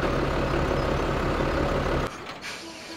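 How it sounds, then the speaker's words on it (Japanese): A truck engine left idling in Farming Simulator 17 drones with a low, steady rumble that abruptly cuts off about two-thirds through, leaving a quieter hiss and faint tones. "あ、エンジンつけっぱなしだ。"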